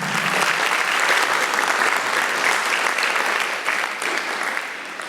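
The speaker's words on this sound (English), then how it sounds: "please give a warm round of applause to James" Steady, loud applause fills a lecture hall as an audience claps after the sociology department chair is introduced, a dense wash of clapping that lasts throughout and fades slightly at the end.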